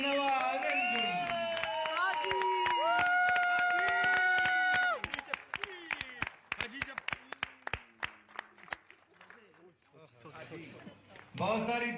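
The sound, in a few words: audience applause and cheering for a performer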